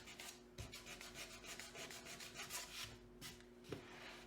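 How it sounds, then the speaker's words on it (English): Sandpaper rubbed steadily back and forth over a painted wooden Halloween porch sign, a close, quiet, continuous rasping with slight rhythmic swells and no voices. "I would sand the black first so that the whole thing is universally sanded"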